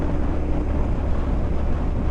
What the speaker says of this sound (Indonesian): cuacanya agak windy nih, agak berangin nih dari tadi pagi di Bintaro